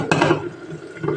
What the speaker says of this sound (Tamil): இதில் 1 கிளாஸ் அளவு தண்ணி சேர்த்துக்கலாம் ஃப்ரெண்ட்ஸ்